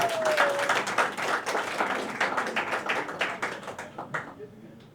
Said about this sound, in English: Round of applause, round of applause.